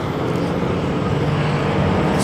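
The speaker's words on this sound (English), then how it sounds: "Loud trucks." Loud trucks passing by on a road, a dense, continuous low rumble and roar of engines and tires, close and loud with no gaps.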